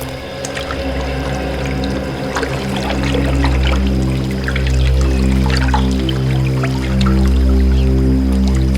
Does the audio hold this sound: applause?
no